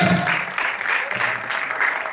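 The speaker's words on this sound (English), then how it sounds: "Please put your hands together for Jim Iyke." Audience applause for actor Jim Iyke's arrival on stage at an Amazon release watch party for his movie 'Comments', a steady dense clapping that fills the room throughout, with a voice faintly audible underneath.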